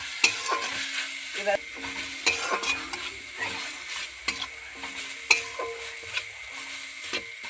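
Ginger sizzling in hot oil in a pan while a spoon stirs it, a steady frying hiss broken by clinks and scrapes against the metal, close up, with a brief spoken word.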